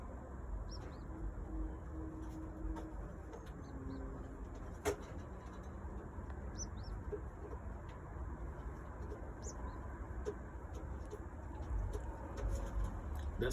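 Pigeons coo softly inside a new loft where a cock bird sits in the nest bowl with a hatchling and a hen waits nearby; the coos are faint, low and intermittent over a quiet room hum.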